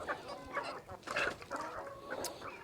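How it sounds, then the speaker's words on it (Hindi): Laying hens cluck steadily while eating homemade feed. Several birds sound close together, giving a busy, continuous stream of short clucks and murmurs with no talking. "मुर्गियां बहुत शौक़ से खा रही हैं माशाल्लाह से।"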